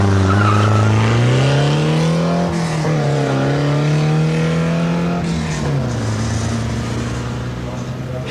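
A Ford Cortina drag car at Santa Pod, 1977, howls past in a loud, sustained engine note that climbs and then drops, with tire noise under the roar.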